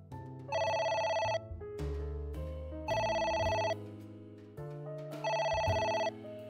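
Telephone ringing in the video game Ai The Somnium Files: three loud, evenly spaced bursts of electronic ring tone over a continuous game music bed, with no talk.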